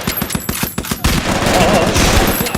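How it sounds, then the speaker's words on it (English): A rapid burst of gunshots crackles in quick succession, loud and dense, with sharp repeated reports running into a continuous volley. "All the gunshots"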